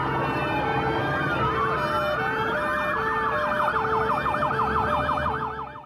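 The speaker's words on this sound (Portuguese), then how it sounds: "Com sirenes e buzinas, o cortejo foi feito pelas ruas da cidade, nos caminhões dos bombeiros" Fire truck sirens wail continuously in a funeral procession through city streets, loud and close, with rising and falling tones layered over steady traffic rumble; no voices.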